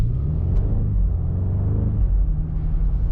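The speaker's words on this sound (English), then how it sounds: "Now on stationary, you still can hear the engine, which is a nice surprise." A 2025 BMW M5 G90 sedan with a V8 hybrid engine idles while stationary, a low steady rumble heard from inside the car with no talking.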